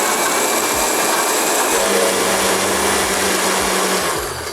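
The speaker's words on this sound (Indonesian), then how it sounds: "Ini kita akan haluskan hingga benar-benar halus." An electric blender grinds spice paste for chicken panang with a little added water, a loud steady motor whir that runs continuously and close up, with a brief lower hum partway through.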